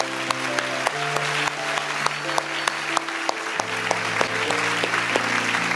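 A church congregation claps together in steady applause at a French-language worship service, with sustained organ or keyboard chords underneath and a few sharper claps standing out.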